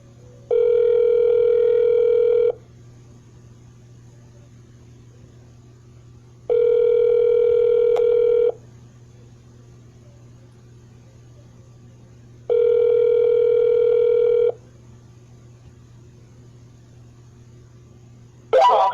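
Phone line ringing through an automatic multi-line dialer for cold calls: three long, steady ring tones about two seconds each, spaced evenly apart over a low constant hum, with a brief click at the end.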